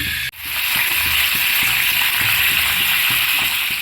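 Tomato pieces drop into hot oil and start frying with a sudden, steady, loud sizzle that stays close and continuous, with faint soft bubbling underneath.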